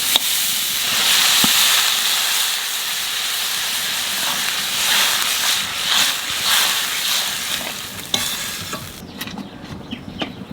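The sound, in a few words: water added to frying potatoes, sizzling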